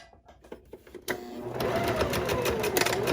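A sewing machine at stitch length 2.5 sews a boho tote bag, starting after a few soft clicks and then running in a fast, steady mechanical whir, close and clear, with no talk.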